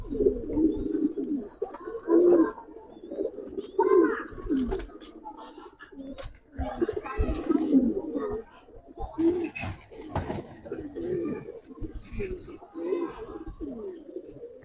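Giribaz pigeons in a kept collection give repeated low, throaty coos in uneven bursts, close by, with voices talking nearby at times.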